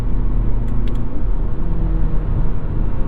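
A 2023 Mazda3 Turbo AWD hatchback with an automatic transmission cruising on a road, its engine a steady low rumble with a slight shift in pitch as it downshifts, heard from inside over road noise.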